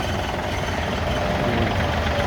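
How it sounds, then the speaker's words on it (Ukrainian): A small diesel engine of a 24-horsepower L1-245 compact tractor idling steadily and loudly, with a continuous low rumble and rough knocking texture, no voices. "Приїхали люди на тест-драйв тракторця Ось Така от L1-245."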